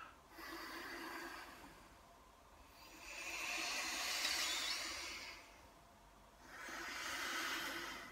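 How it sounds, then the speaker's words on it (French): Slow nasal breaths during alternate nostril pranayama, three long airy inhale-exhale swells rising and falling, close and soft, with no talking. "le son de la respiration"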